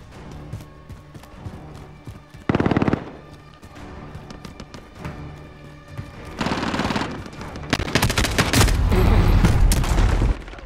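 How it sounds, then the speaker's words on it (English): Machine gun fire during a gun game match of Call of Duty: Modern Warfare 2: repeated short bursts and rattling rapid volleys, with a sharp dense burst early and sustained heavy automatic fire toward the end, loud and close. "It's a machine gun."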